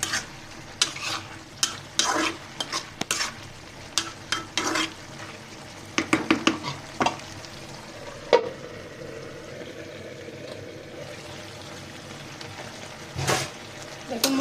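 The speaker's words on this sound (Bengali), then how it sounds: "এই পর্যায়ে ধনেপাতা দিব, দিয়ে আমি আরো 2 মিনিট রান্না করে নিব।" Eggplant curry with fresh coriander leaves cooking in a pan, a low steady sizzle broken by sharp spatula scrapes and clinks against the pan, busy at first and then settling into calmer frying.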